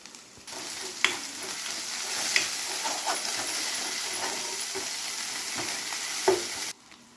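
Ginger garlic paste fries in a pan with a constant loud hiss and sizzle, while a spoon stirs and scrapes, giving occasional sharper clicks against the metal.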